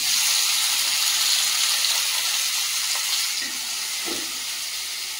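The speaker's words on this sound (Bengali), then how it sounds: "তেল দিয়ে টমেটোটা ভেজে নেব" Tomatoes fry in hot oil in a frying pan, a continuous close, loud sizzle with a few soft stirring bumps and no voices.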